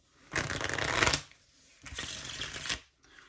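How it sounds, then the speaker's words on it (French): A deck of playing cards is shuffled twice in quick riffling bursts, each close and crisp with a short pause between, and no talk. "le spectateur va pouvoir venir mélanger le jeu"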